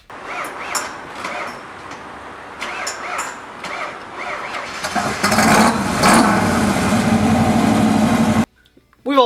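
A car engine struggles through a hard start, cranking in uneven bursts before catching and running loudly for a few seconds, then cutting off abruptly.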